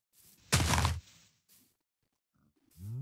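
A loud, rough pig grunt from Minecraft bursts out, followed by faint shuffling. Another deep grunt rises at the end.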